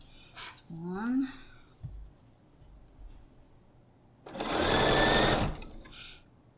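A sewing machine stitches over quilt block pieces in one loud, steady whirring run of about a second, preceded by a woman's speech and a faint click.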